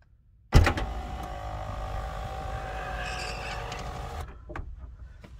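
The automatic trunk release motor on a Lincoln Town Car Signature starts abruptly and hums steadily for about four seconds as it pulls the arm down, then stops, followed by a few faint clicks.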